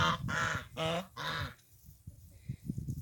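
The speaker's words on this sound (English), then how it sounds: "There's the geese." Geese on a homestead give several loud, harsh honking calls in quick succession, then quieter scattered cackles follow with a light chatter in the background.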